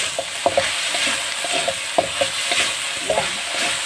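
Taiwanese swanchai vegetables being stir-fried in a pan give a steady hiss of frying with repeated scraping and tossing clicks from stirring, close and continuous, with no talking.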